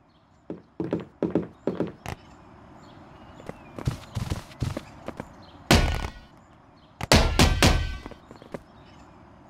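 Video game horse hooves (Toy Story 3, riding Bullseye) clopping in short rhythmic bursts against a steady low hum, with heavier thudding steps later on, fairly close and distinct.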